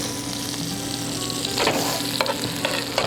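A stuffed flank steak roulade sears in a hot pan with a dense, steady sizzle, and a few scraping and clinking sounds of a utensil come in near the end.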